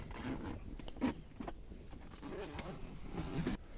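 A Klein Tools tool backpack being unzipped, with a few scraping zipper pulls and rustling of the bag and tools inside, close and moderately loud over a few seconds.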